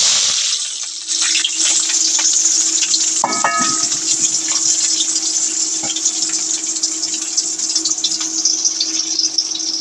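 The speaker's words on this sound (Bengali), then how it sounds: "চুলাতে তেলও গরম দিয়ে দিচ্ছি" Oil heats in a pan on a stove ahead of frying potatoes, giving a steady, close sizzling hiss with a faint clink, and no voices.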